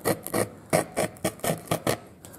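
A leather gouge drags across a piece of saddle leather in a quick series of about nine short, close, rasping strokes, each a sharp scrape in an even back-and-forth rhythm, with no talking.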